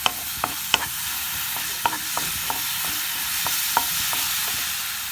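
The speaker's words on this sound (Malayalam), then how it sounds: "ഇതിലേക്ക് ക്രഷ് ചെയ്ത ഉള്ളി ഇട്ട് കൊടുക്കാം. ഇത് രണ്ടും കൂടി നല്ലോണം വഴറ്റാം." Crushed onions sautéing in a pan for a mutton brain dry fry, with a steady soft sizzle and a series of sharp spoon-scraping clicks as they are stirred, close and alone.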